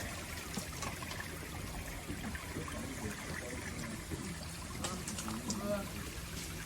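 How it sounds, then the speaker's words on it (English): A small stream flows at a temple in Kamakura, Japan, a continuous soft trickle and babble of water running steadily throughout, with faint background activity. "And a nice stream. You can just listen to the water."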